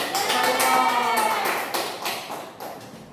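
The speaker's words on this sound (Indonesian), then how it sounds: "Bagus sekali, beri aplaus untuk" A classroom of fifth graders bursts into applause during a civics lesson, a dense, steady patter of many hands clapping close by that fades slightly toward the end.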